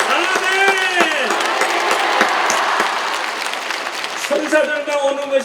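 Congregation applause at a 2023 Catholic charismatic renewal national healing retreat, a steady crowd wash of clapping lasting throughout while voices call out and speak over it.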